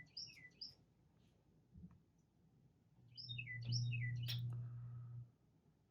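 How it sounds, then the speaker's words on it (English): A loud bird chirps outside a window in a few quick bursts of bright, sweeping calls, with a low rumble rising partway through. "I got a very loud bird outside my window."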